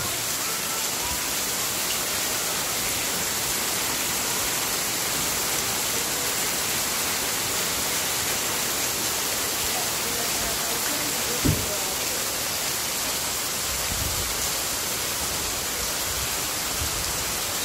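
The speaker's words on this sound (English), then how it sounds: "And the rain is pouring" Heavy tropical rain pours hard during a storm in which the house is flooded, a loud, dense, continuous hiss with a brief thump partway through.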